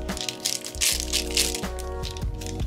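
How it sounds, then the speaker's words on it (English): Cooling foil crinkles and rattles as it is wrapped around a jar of homemade hair care product, a close, continuous crumpling texture with several sharper crackles along the way. "I'm going to wrap it in this cooling foil"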